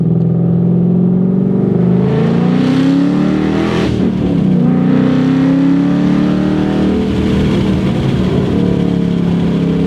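A 2013 Mustang GT engine drones steadily while cruising on back roads, a deep rumble that swells slightly now and then, close and loud with no talking.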